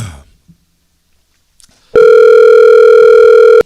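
A telephone line tone rings out loud and steady for nearly two seconds, a single unbroken tone sounding right before a voicemail greeting, following a quiet stretch with a few faint clicks.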